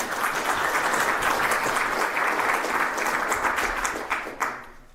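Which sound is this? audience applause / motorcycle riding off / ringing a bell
audience applause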